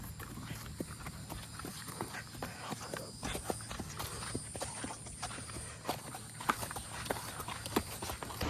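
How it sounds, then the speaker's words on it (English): Horses' hooves clip-clop steadily as the animals are walked back to their stalls at a horse show, a continuous run of fairly close, evenly paced hoof strikes against a faint background hum. "we're finishing up walking the horses, and we're gonna go put them back in their stalls"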